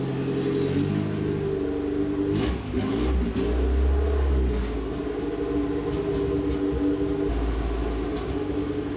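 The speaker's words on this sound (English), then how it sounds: "that, my friends, is how you do a first test drive the incorrect way" A Toyota AE86 Corolla GTS engine on its first test drive after being brought back to life, running loud and steady with low rumbling harmonics, revving up around the midpoint and pulling continuously throughout.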